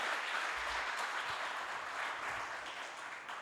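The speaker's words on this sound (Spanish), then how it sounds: "Un aplauso para este equipo." Audience applause for a team at a gathering, a soft, distant wash of clapping that holds steady and tapers slightly toward the end.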